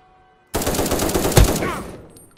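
Loud rapid gunfire in the browser shooter game Krunker, a dense burst of shots with one heavier crack near the middle, trailing off at the end.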